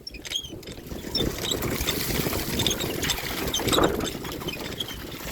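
Water poured repeatedly over a child during a bath, splashing and trickling in a steady broadband wash with a few brighter splashes, close and continuous with no talk.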